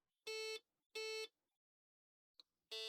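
Two loud electronic beeps sound in succession with a short gap, followed by a brief click and the start of a third beep, from a faulty Brazilian MILMAR Apple II clone computer on startup.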